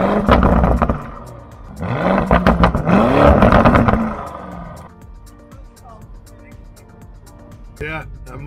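A 2020 Lamborghini Urus SUV engine is revved twice, each burst a loud, close roar that rises and falls in pitch. The engine then settles into a low idle while people talk nearby.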